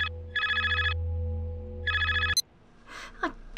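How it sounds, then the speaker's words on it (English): Telephone ringing in the adventure video game Barrow Hill: two bursts of a loud electronic bell ring over a steady low hum, then the hum cuts off, followed by a short click and a couple of faint tones. "Phone call."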